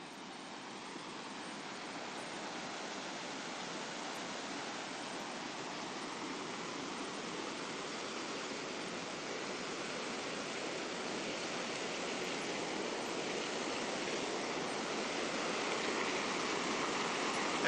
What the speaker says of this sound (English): You're just in time for the waterfall.